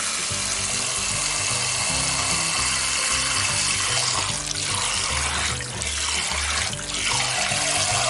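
Water pouring steadily into a bowl of beans set to soak as the first step of a pastry filling, a continuous close splash and trickle with shifting pitch as the bowl fills.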